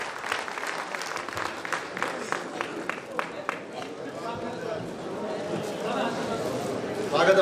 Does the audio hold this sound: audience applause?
yes